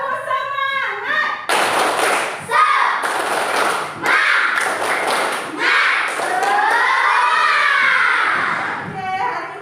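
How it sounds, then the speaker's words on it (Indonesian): Schoolchildren in a fifth-grade class chant the 'tepuk semangat' spirit cheer together, with loud bursts of rhythmic claps mixed into their sing-song voices. "kita tepuk semangat dulu ya. Tepuk semangat."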